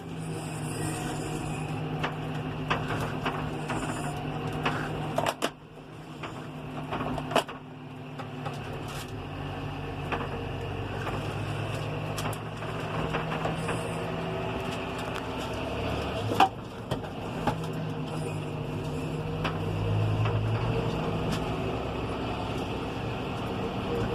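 A John Deere 6190R tractor driving in fourth gear with its eco function engaged, a steady low engine drone running throughout, broken by occasional sharp knocks and clunks from the cab and implements.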